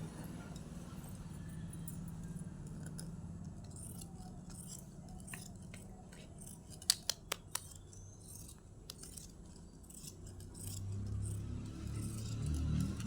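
Scissors snip through blouse fabric, a few quiet crisp cuts clustered in the middle with faint rustling, close but soft over a low background hum.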